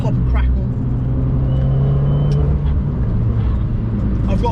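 Abarth 595 Competizione, a track-spec hot hatch, rumbles loudly and steadily from inside the cabin, with a sustained low exhaust drone and a few small crackles on lift-off, while people talk over it.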